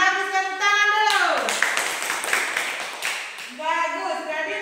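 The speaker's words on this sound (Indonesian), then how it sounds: "Bagus, tepuk tangan dulu." Schoolchildren in a classroom break into a short burst of hand clapping, dense and lively, while a voice keeps talking over it before and after.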